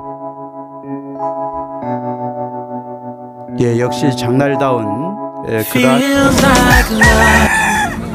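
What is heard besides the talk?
chickens clucking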